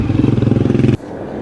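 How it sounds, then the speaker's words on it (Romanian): A moped rides past in a park in Isfahan, Iran, its engine buzzing loud and close with a steady pulsing rhythm for about a second before cutting away abruptly into quieter background. "Încă unul, n-au nicio treabă în parcuri cu motorete."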